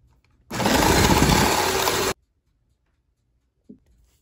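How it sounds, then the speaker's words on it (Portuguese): An electric mixer beats three egg whites for apple cake batter with a close, steady whirring burst of under two seconds. Quiet follows, with a small knock near the end. "Agora que eu tenho as três claras, eu vou bater aqui um pouquinho na batedeira."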